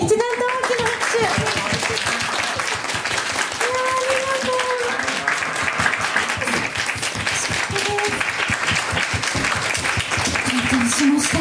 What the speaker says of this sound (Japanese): 会場の皆さん、感謝の気持ちを込めて一段と大きな拍手。